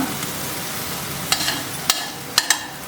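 Tomatoes frying in a pan with mint for an Andhra-style dish, giving a steady close sizzle with a few sharp scraping clicks from stirring.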